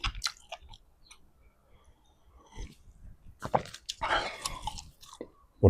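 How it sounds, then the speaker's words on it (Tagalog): Someone eating cup noodles, with soft chewing and wet mouth sounds followed by louder slurps of broth, close up and alone. "Puro higop ng sabaw eh."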